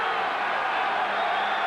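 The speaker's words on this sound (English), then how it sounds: "Crowd getting into it here on 3rd and 11, deep in Cowboy territory." A packed football stadium crowd roars steadily through a 1987 NFL game between the Cowboys and Patriots as a third-and-11 play builds deep in Dallas territory, a broad continuous wash of cheering with no single voice standing out.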